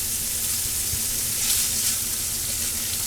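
Finely chopped bean and bacon sizzle steadily in a hot pan, a loud, continuous hiss and crackle of frying with no pauses.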